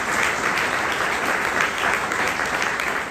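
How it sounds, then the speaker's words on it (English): Audience applause at a reception held at Queens College, steady and dense with many hands clapping at once, holding loud and even for the whole stretch with no speech over it. "they deserve a big round of applause for that"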